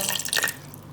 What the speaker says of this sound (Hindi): थोड़ा सा मैं पानी ऐड करूँगा,